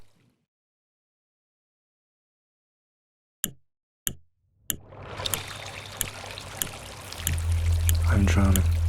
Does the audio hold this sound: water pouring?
yes